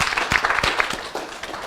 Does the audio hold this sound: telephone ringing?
no